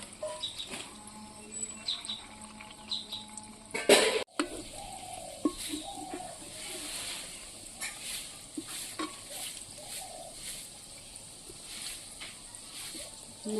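Bread gulab jamun balls frying in moderately heated oil, a soft continuous sizzle with small stirring clinks and splatters, close, with a sharp clatter early on and light talk in the background.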